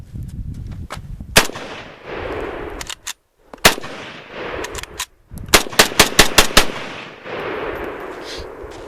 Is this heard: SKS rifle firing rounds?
yes